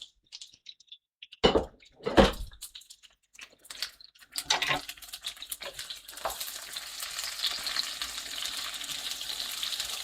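Red and white onion hitting a hot pan, with a few loud clatters and scrapes before a strong, steady sizzle builds and holds for several seconds, close and with no talking.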